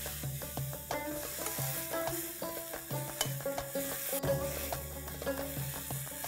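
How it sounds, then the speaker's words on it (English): Chopped tomatoes cook in a pan for mutton tahari, a soft steady sizzle with repeated light scraping and stirring strokes over lively background music, no voices. "we have to cook this till the tomatoes are nice and soft."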